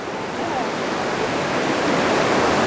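Swift river water in a fishing channel, a steady loud rushing roar that holds evenly throughout, close and with no pause.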